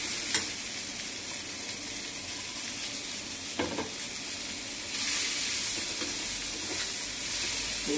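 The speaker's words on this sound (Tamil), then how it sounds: "வேக வச்சிருந்த முழு பாசி பருப்பு, பச்சை பயிர், அதை இதில் போட்டு வதக்கணும்." Whole green gram, already boiled, sautés in a pan after curry leaves have crackled, giving a steady close sizzle with a few scraping stirs and a brighter surge of frying hiss in the second half.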